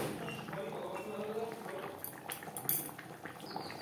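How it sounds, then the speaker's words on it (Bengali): Coriander leaves stirred into a simmering fish gravy of bhetki in a pan, giving soft wet scraping and light utensil clinks against the pan over a bubbling background, close and moderately quiet. "গ্রেভির সাথে ধনেপাতা বেশ ভালো করে মিক্সড করে দেবো"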